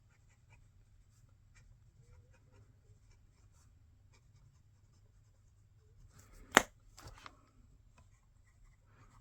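Stub nib fountain pen writing on paper, faint soft scratches near the microphone under a low background hum, with a sharp louder click-like sound and a brief rustle toward the end.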